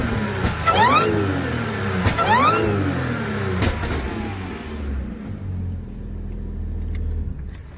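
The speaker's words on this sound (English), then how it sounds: "supercharger when it gets up in the revs, when it's open like that, it does get pretty loud" A modified-airbox Audi A6 3.0T supercharged V6 revs hard twice, each blip rising in a sharp whining sweep up close, then settles back to a lower idling rumble, with no talk.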